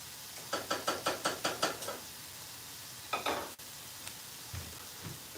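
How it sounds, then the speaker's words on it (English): A whisk beats through thickening Egyptian kishk porridge in a pot, about eight quick, even strokes in a row, then a short pause and a few more scattered taps against the pot. "Let me give the kish a whisk while we're at it."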